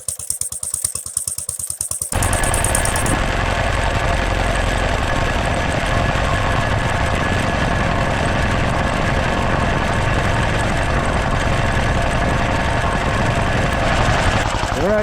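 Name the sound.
Standard Monarch tractor engine running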